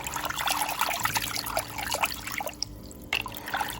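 Rinseless car wash solution is poured into a bottle in a steady, close trickle with small splashes, briefly dropping off before the flow resumes.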